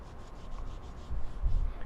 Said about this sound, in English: with that same cloth that you used to wrap the shovel, you should be able to wipe off the excess rust